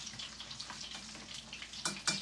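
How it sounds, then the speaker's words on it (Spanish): Croquettes frying in a pan of hot oil, a continuous crackling sizzle up close with a few sharper pops toward the end. "Mirad cómo se van friendo"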